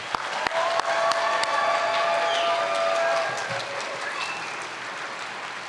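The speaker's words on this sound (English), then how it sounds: "let's give all of our students who are graduating from the College of Humanities a round of applause for their academic accomplishments." An audience at a fall humanities convocation applauds graduating students, dense sustained clapping with a few sharp claps at the start, filling a large hall before gradually thinning.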